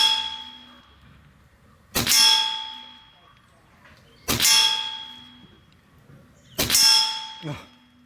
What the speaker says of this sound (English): I hit some steel behind there.